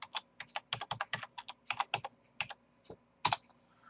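A password being typed on a computer keyboard: a quick, irregular run of close, crisp key clicks with brief pauses and a firmer final keystroke, heard alone with no talking.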